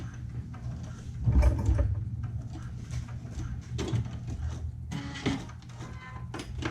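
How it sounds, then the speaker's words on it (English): A sewing machine top stitches a backpack with a steady low mechanical hum, punctuated by a few louder knocks and clatters, and no one speaks. "I'll stitch on top of my previous top stitching."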